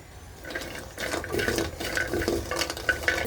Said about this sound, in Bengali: আমি এখন শুটকিগুলা ভেজে নিব হালকা করে